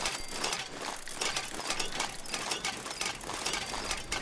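In the video game Fallout 76, a device is disarmed over and over. Fast, continuous mechanical clicking and ratcheting sounds run steadily throughout, fairly loud and close, with no voices.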